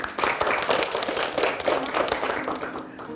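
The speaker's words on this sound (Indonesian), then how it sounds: "Saya minta tepuk tangannya dulu untuk adik-adik semua" Children clap together in a school quiz event, with dense, steady applause that keeps going for several seconds at close range.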